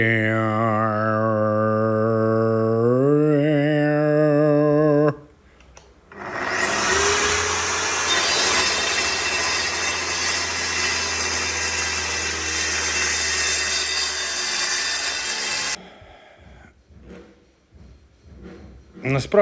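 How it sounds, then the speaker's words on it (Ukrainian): A power saw cuts steadily for about ten seconds, a loud continuous near whine that follows a voice humming a tune, then drops away into softer handling noises. "в цьому місті дуже легко йшла пила"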